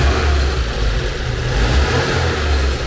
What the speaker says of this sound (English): It starts right up, and when you hit the throttle,